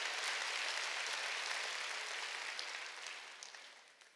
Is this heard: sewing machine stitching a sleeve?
no